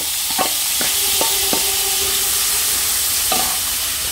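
Chopped onion and tomato being stirred in a pan for a Goan drumstick-leaf bhaji, a constant bright sizzle broken by a few sharp scraping strokes and clinks, close and fairly loud.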